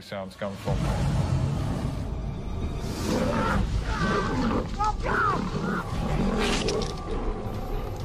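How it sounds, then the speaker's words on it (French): Lions growing agitated in an enclosure, with deep roars and grunts layered under constant narration and dramatic background sound. "Les autres lions commencent à s'agiter."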